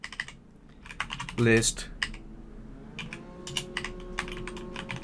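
Keyboard typing as a WSL command is entered into an administrator command prompt on a Windows 11 computer: a quick burst of key clicks near the start, then scattered taps, with a voice speaking briefly over them.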